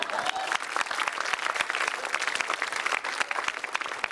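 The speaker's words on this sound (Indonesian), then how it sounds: "Tepuk tangan buat Ajis, doa ibu." A stand-up comedy show audience applauds comedian Ajis, dense clapping from a crowd with scattered sharper claps, sustained and fairly close.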